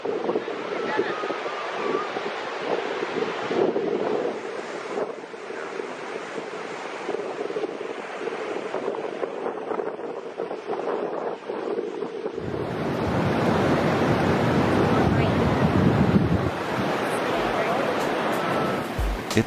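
Ocean surf washing onto Pismo Beach with steady wind rushing over the microphone, the wash shifting from a softer mid-range surge to a broader, louder roar in the second half.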